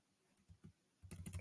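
A computer keyboard being typed on, with a few soft separate key taps and then a rapid close burst of keystrokes at the end.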